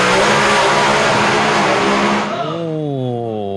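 Turbo dragster engine revving hard at drag race staging, a loud roaring blast that drops into a rising and falling burbling rev as the RPM builds toward stage.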